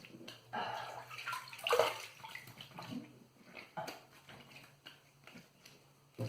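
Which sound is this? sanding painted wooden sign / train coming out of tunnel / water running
water running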